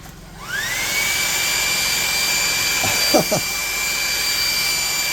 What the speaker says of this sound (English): that small child driving the tractor is going back up the street